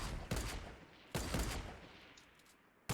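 Gunfire in a video game with snipers, heard as two dense bursts of rapid shots about a second apart that fade out, followed by a sharp final crack at the end.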